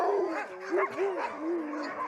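Several sled dogs in Lapland bark, yip and whine together in a close, overlapping chorus of rising and falling wails that runs through the whole moment.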